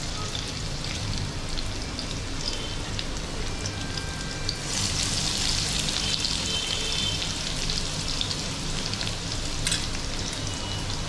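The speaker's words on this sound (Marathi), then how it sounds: "लसूण टाकून घेतले, तेल गरम झाले." Garlic sizzles in hot oil in a kadhai for a Konkani-style mushroom bhaji. A close, steady crackling hiss runs throughout and swells into a brighter burst halfway through, with no talking.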